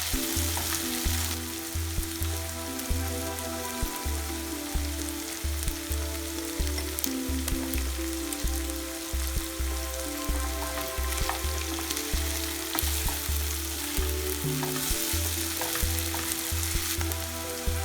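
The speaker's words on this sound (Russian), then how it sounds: "Тушим до золотистого цвета." Chicken pieces and vegetables frying in oil in a pan for a bulgur dish produce a dense, continuous sizzle with frequent spatula scrapes and stirring knocks, close up with no voices.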